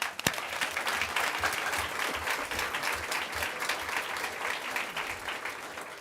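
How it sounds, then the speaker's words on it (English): Sustained applause from an audience at a school board of trustees meeting, a dense, even wash of many hands clapping close by for several seconds without pause. "Let's give them one more round of applause."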